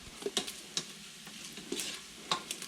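Bacon frying in an Instant Pot, a soft continuous sizzle broken by several sharp scraping stirs and clicks of a utensil against the pot at irregular intervals, close up with no talking.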